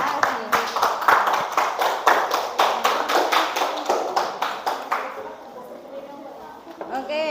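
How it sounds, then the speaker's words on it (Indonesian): A group in a classroom claps together in rhythmic, fairly loud applause that fades out near the end, with voices in the background. "Tepuk tangan kelompoknya Mbak Alfi."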